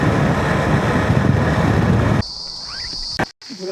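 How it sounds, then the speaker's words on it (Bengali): Loud steady wind and road noise beside the Ganga Expressway at night gives way to a shrill, continuous cricket chirp close by that rings out almost alone. "পুরো ঝিঝি পাখার বিশাল জোরে সাউন্ড,"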